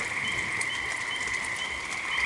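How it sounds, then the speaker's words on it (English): Tree frogs and spring peepers calling in a dense chorus at night, a steady high-pitched trill with overlapping shrill peeps, no voices. "Those are tree frogs, and the ones going wee, wee, wee. They're the peepers"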